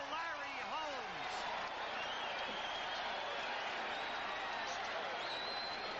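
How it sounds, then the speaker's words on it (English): A boxing arena crowd on its feet cheering for Larry Holmes during his fight with Ken Norton, a dense, sustained roar with whistles and applause and a commentator talking over it. "The crowd on its feet cheering for Larry Holmes."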